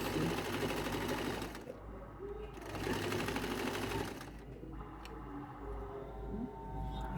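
A sewing machine stitches double wefts of hair bundles, running in a loud, close, continuous whir. It pauses briefly twice, then starts up again.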